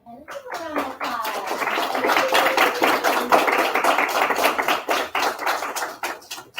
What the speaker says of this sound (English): this is a round of applause